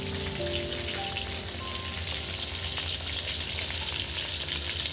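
Hilsa fish fries in hot oil with a dense, continuous crackling sizzle like rain, close and steady, with no one talking.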